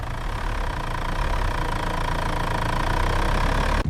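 A truck engine idles in a continuous low rumble with steady knocking, near and alone, with no voices.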